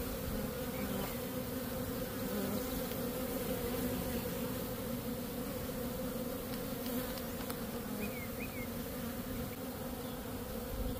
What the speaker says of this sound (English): I have to be careful because so many bees.